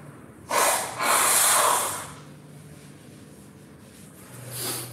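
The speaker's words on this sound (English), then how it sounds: "I've got to blow my nose." Someone blows their nose in two forceful, close bursts of breathy honking, followed by quieter sniffling breaths and a final short blow.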